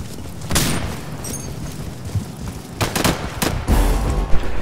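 In the shooter game Insurgency 2, a grenade blast and surrounding gunfire ring out as a series of sharp booms and cracks scattered across the moment, loud and close against a rumbling battlefield background.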